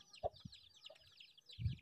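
Chickens cluck and murmur close by while being fed bread, a scattering of short irregular clucks with quiet gaps between them.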